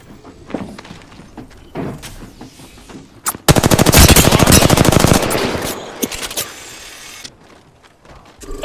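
A loud, fast rattle of automatic weapon fire from the video game Apex Legends lasts about two seconds, followed by scattered thuds and single shots amid quieter game sounds.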